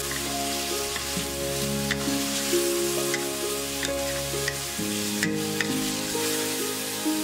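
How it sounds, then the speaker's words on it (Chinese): A wok stir-fry with cooking wine plus light and dark soy sauce sizzles loudly and steadily up close, with repeated stirring scrapes and faint tonal music underneath. "继续翻炒均匀，"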